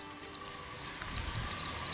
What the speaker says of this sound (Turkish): Çalışkan ispinoz kuşlarının bütün yavruları yumurtadan çıkmış durumda.